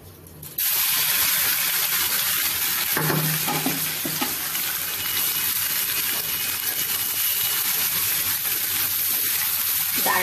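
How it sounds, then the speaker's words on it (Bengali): Lentils and rice fry in a hot pan for khichuri, a loud steady sizzle starting abruptly after a brief quiet moment and continuing throughout, with faint stirring knocks underneath. "এই দেখো চাল আর ডাল ভেজে নিলাম"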